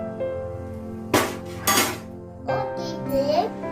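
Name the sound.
mixing manathakkali keerai kootu in a pot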